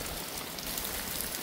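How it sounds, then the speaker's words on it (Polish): Heavy rain during a thunderstorm pours steadily on surfaces around a rural homestead, a dense, even hiss of drops that fills the whole moment with no voices. "To jednak deszcz. I to wcale nie taki mały."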